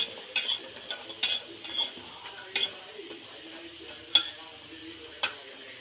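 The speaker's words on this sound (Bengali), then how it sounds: "আরও একটু লাল লাল করে ভাজি ততক্ষণে" Papaya dish frying in a pan until reddish, a faint low sizzle under light clinks and scrapes of a spoon, several sharp knocks spaced a second or so apart, no talk.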